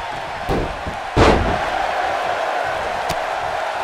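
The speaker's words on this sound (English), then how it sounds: "Ring rattling." Wrestling ring ropes and canvas rattle as bodies slam down during a championship match, a sharp heavy thud followed by a rattling ring and crowd noise, with a couple of smaller knocks around it.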